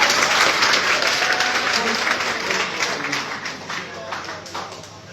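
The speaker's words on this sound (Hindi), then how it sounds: "जोरदार तालियों से स्वागत करता हूं।" An audience at a public gathering applauds loudly to welcome a speaker, a dense wash of many hands clapping that slowly thins out and fades toward the end.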